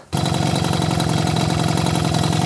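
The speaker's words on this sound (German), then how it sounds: "jetzt haben wir den Original montiert, Einteiler, Puch, zusammengeschweißt, 18 mm Flammrohr, Standgastest" A Puch Maxi moped engine fitted with its original welded one-piece Puch exhaust and 18 mm flame tube idles steadily and loudly up close, with a fast, even two-stroke putter after it catches at the start.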